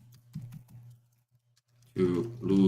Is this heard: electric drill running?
no